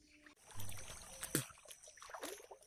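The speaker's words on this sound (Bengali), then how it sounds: "এই জল পেরুচ্ছি" Someone wades through floodwater while going to check fish traps, and the water sloshes and splashes softly and intermittently close by in a quiet outdoor setting.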